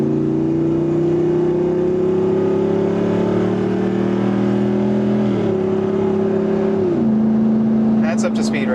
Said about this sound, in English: I have a 392 with a very open exhaust